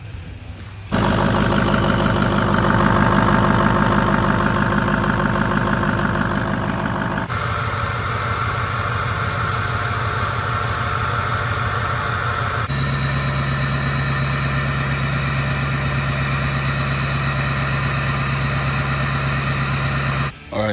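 A Ford 6.0 Powerstroke diesel engine starts and settles into a loud, steady idle with a clattering, droning hum, its tone shifting slightly as it runs close by for about twenty seconds.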